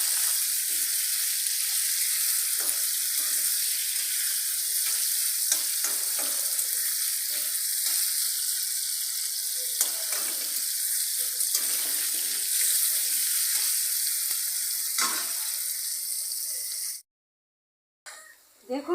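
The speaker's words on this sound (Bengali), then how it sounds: "আলুগুলো লাল লাল করে ভাজা হলে তুলে নেবো" Potato pieces frying in oil with a little turmeric and salt for a cauliflower, potato and paneer curry, a steady close sizzle with scattered crackles and stirring scrapes, running continuously before cutting out near the end.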